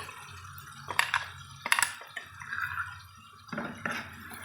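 Water is poured into ground masala for a jackfruit seed kuzhambu. A few splashy pours and drips come close, with clinks from a vessel between them and quiet gaps.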